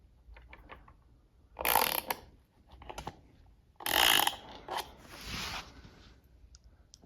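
A speaker stand's crank mechanism is turned to lower the stand, giving bursts of clicky ratcheting at close range, with quieter mechanical rattles between the louder bursts.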